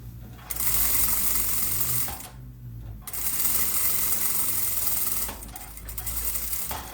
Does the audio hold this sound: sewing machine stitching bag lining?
yes